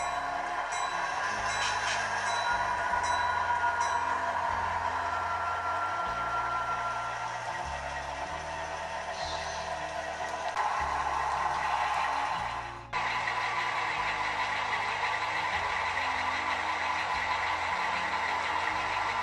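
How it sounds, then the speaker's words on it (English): An EMD GP7 diesel locomotive moving from the engine servicing area to a departure track, its engine rumbling in shifting low pulses with a steady mid-range drone and a brief dip partway through, heard at moderate distance. "The engineer moves his diesel from the engine servicing area to departure track number 2."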